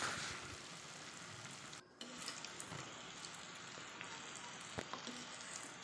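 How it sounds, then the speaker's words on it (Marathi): Bhaji fritters deep-frying in hot oil over a low flame, a steady close crackling sizzle that runs throughout with a brief dip partway through, no voices. "भजी तळते आहे"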